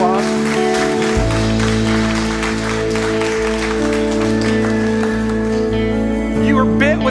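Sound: audience applause

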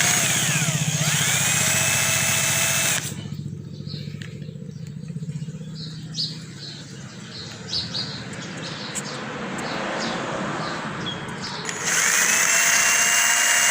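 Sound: power drill boring holes for screw hooks

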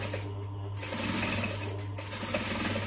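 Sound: sewing machine stitching a bag

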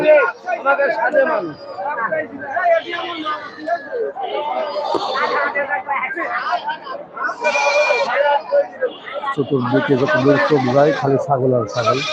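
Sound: goats bleating at a goat market

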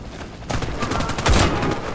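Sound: gunfire in video game Warface

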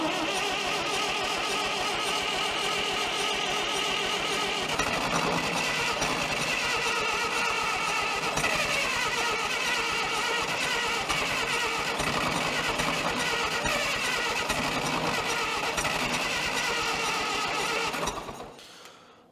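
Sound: CAT Towmotor forklift engine cranking with starter motor

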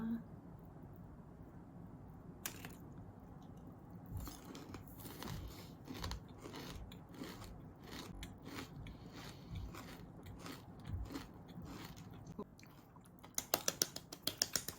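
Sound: biting crispy food

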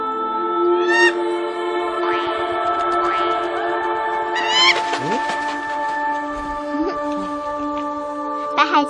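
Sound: white gyrfalcon calling in a Chinese fantasy film

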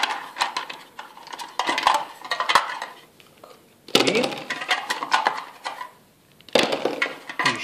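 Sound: dice rolled in Arkham Horror board game

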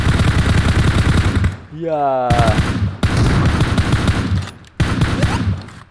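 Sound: gunfire in PUBG video game

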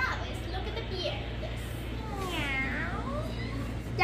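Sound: actor imitating a cat meowing

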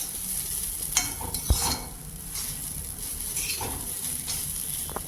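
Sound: grated coconut roasting on low flame

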